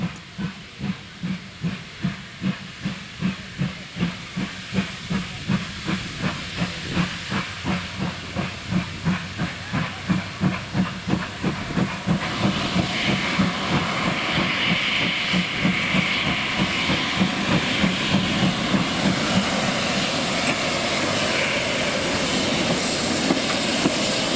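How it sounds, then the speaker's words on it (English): GWR Manor-class steam locomotive 6999 Betton Grange chuffs in steady, slowly quickening beats with hissing steam and clanking wheels, growing louder as it runs from a passing loop into a station. "number 6999 Betton Grange pulls out of the passing loop and runs into Gothrington Station"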